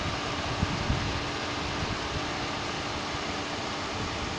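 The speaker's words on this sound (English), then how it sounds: "Sorry for the engine noise, but I'm still trying to cool that interior down before I go climbing on in." A 2011 silver Chevrolet Impala with a 3.5 liter V6 idles with the air conditioning running, giving a steady, even hum and blower rush at constant level with no talking.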